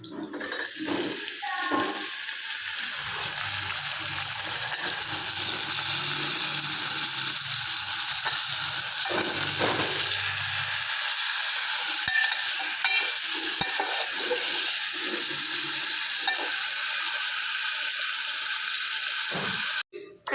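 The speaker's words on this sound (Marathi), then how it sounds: "तर या शेंगा मी त्या फोडणीत देणार आहे" Drumstick pods drop into a hot cumin and mustard seed tempering with tomato and garlic, giving a steady close sizzle with some stirring at first before the frying settles into an even hiss.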